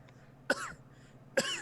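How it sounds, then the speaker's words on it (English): A person coughs twice, two short rough bursts about a second apart, close and fairly loud against a quiet background with no talk. "And he just kind of coughs."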